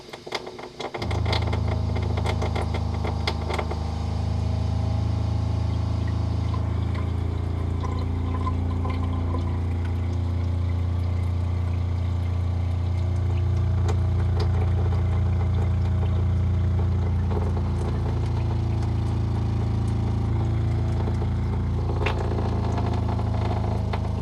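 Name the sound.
SHURflo water pump running under the counter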